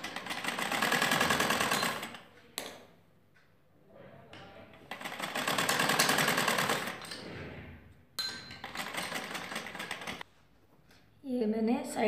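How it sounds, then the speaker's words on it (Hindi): A sewing machine stitches the folded side fabric of a kurti in three loud, steady runs of rapid whirring, each separated by quieter pauses with handling noise. "अब ये कपड़ा हम इस पर साइड का कपड़ा इस पर फोल्ड करके सिल देंगे।"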